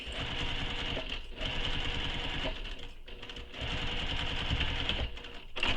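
A sewing machine back stitching fabric for a crossbody bag, a steady close mechanical whir running in several bursts with brief pauses as the stitching direction reverses.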